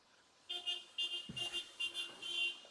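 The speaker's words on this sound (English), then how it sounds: "Honking your horn driving by my house." A car horn honks in a series of short toots from a vehicle driving past a house, fairly faint and distant, with no voices.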